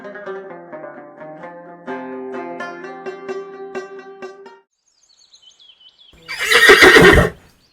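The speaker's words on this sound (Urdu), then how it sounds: "یہ گھوڑا کہاں سے لے آئے ہو اینک والے جن؟" A horse neighs loudly in an Urdu animated cartoon, a single long whinny arriving near the end after a stretch of background music and a brief quiet pause.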